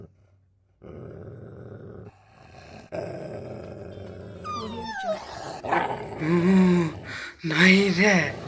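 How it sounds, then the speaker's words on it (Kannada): Dog growling and barking close by, a low rumbling growl that breaks into sharp, loud barks and yips, with voices talking over the noise. "ನಾಯಿ ಇದೆ."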